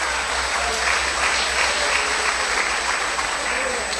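A church congregation applauds in a steady, even wash of clapping, heard at a distance under a faint hum of the room's sound system.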